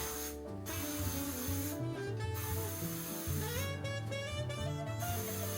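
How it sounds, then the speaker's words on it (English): Short hissing bursts of a spray bottle of heat protectant sprayed onto a wig, a few separate squirts and then a longer run, over steady background music. "I'm gonna go ahead and spray some heat protectant on it"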